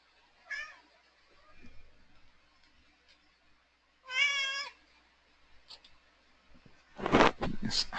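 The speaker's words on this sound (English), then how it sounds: "Hi, cat." A domestic cat meowing several times, separate close meows with pauses between them and a louder burst of calls near the end.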